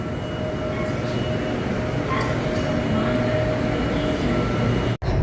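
Steady low rumble and rolling rattle of a Bangkok BTS Skytrain car heard from inside while riding, continuous and fairly loud, with a brief sharp dropout near the end.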